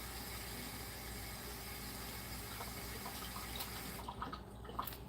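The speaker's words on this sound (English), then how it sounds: "Let me rinse my hands a bit." Water runs steadily from a kitchen tap as hands are rinsed beneath it, a continuous close hiss and splash that stays even throughout.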